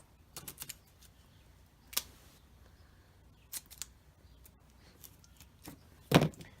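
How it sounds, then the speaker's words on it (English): Scissors cutting material in half at a table, a few crisp isolated snips spread over several seconds, close but quiet, the last one loudest. "And then you can cut it in half again."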